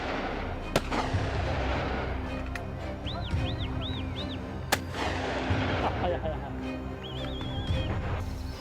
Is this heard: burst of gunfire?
yes